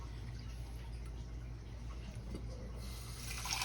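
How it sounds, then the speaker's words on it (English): Water poured into the bottom of a baking pan for a bread pudding water bath, a soft steady gushing stream, fairly faint, brightening toward the end, with no talk. "I'm going to put some water in the bottom of this pan."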